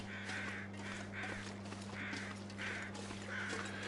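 Crow-like caws in The Long Dark video game, five evenly spaced calls repeating at a steady rhythm, faint and distant over a low constant hum.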